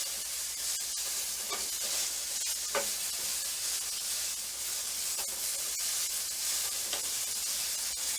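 Fiddleheads frying in a pan over fairly high heat, a steady bright sizzle and hiss with occasional small pops and stirring scrapes, close and constant with no talking.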